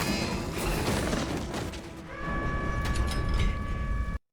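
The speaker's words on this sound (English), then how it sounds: "Secret elevator, maybe now actually happening." Secret elevator mechanism in a Jurassic World cartoon: a loud, continuous mechanical rumble and grinding with a rising whir partway through, ending abruptly.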